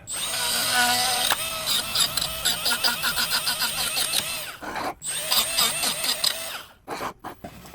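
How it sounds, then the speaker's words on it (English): A die grinder with a carbide bit deburrs a trimmed throttle body on a twin-turbo Mustang, a high whining buzz that runs in bursts, with short pauses and a few quick stops near the end. "we're going to go to our die grinder with a carbide bit. We're just going to deburr it"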